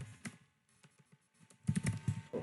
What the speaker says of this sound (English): I will type here